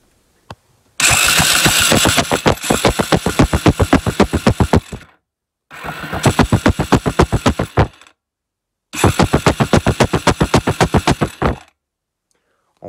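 An engine starter cranks hard and loud in three separate bursts, several seconds each, with short pauses between them, during an ignition test.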